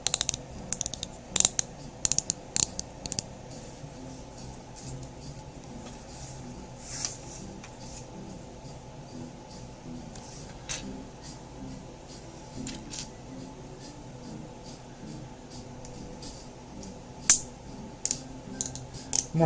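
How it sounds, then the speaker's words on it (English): Small plastic parts being snapped together, giving scattered sharp clicks at irregular intervals over a quiet background, with a few louder snaps near the end. "So you put these things together, these two parts, and the instruction says click"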